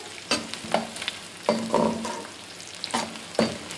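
Garlic and onion fry in a pan for a desi-style mutton mince spaghetti, sizzling steadily while a spoon stirs and scrapes in several separate strokes, close up with no talking.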